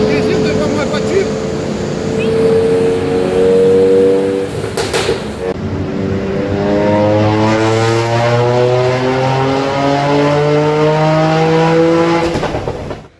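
A performance car, its owner's Bichette, driven hard past a small group of friends at a tuning shop, engine revving loud and close with rising and falling gear pulls, a strong drone that fades as it pulls away.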